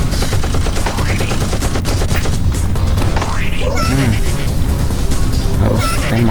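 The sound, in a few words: gunfire in Roblox video game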